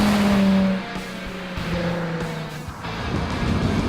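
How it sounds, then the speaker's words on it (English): A stock Nissan 350Z sports car's exhaust note rumbles and rises in pitch as it accelerates, then settles into a steady, loud drone. "This exhaust note on the 350 is actually the most pleasing of all of these cars stock."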